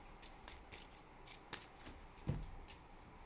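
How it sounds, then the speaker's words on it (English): Trading cards being power-shuffled and cut by hand, a quick series of soft riffling flicks and rustles with a couple of sharper snaps, fairly close and with no talking. "Now you can see us do our painful power shuffling and cutting techniques"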